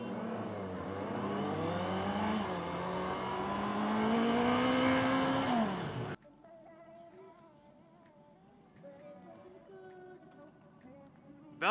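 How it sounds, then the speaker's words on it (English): A Valkyrie motorcycle engine passes nearby, its note rising and swelling loudly before falling away abruptly, followed by a quieter stretch of background sound. "Valkyrie, huh? It's a sick bike."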